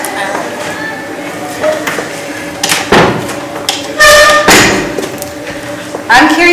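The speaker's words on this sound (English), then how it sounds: "I'm going to close that door." A door being closed in a meeting room, a few loud knocks and thuds with rattling clatter, heard amid voices talking.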